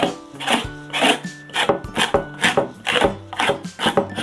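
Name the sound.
scraping pumice texture gel onto a painting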